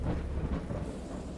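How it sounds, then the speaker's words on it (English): A great storm during a sea voyage, with a dense rumble of thunder and a steady wash of rain, loud and continuous throughout with no voices. "I know that I heard pearls of thunder and other tones which nature utters only in her wildest moods"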